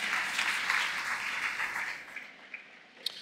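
A church congregation applauds during a French-language sermon, a sustained, moderately distant wash of clapping that thins out and fades toward the end, with a couple of isolated claps.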